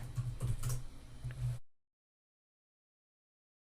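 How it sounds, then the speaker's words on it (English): Rapid clicking keystrokes on a computer keyboard for about a second and a half, close and crisp, followed by silence. "now if I type hello world"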